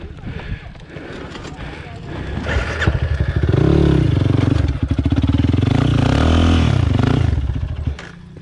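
A Yamaha XTZ 300F motorcycle rides a dirt trail, its engine revving up loud and close with rising and falling pitch amid clatter, wind buffeting and talk.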